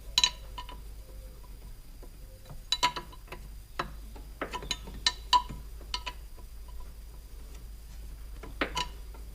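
A wrench works loose bolts on a Kubota diesel engine, giving scattered metallic ticks and clicks in an irregular rhythm over a low steady hum, close but fairly faint, with no talking.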